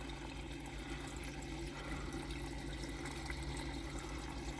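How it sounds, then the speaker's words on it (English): Water flows steadily down a pipe in a bucket filter of a backyard aquaponics pond system, a continuous, fairly faint rushing and gurgling with no speech. "the water goes down in a pipe and it has two exits that point in a certain direction"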